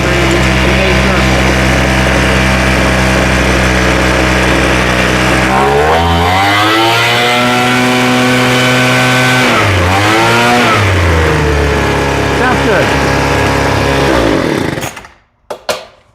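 A small two-stroke engine on a Craftsman leaf blower, freshly rebuilt carburetor, runs loud and close, holding a steady high idle, then revving up and dropping back twice before cutting off near the end.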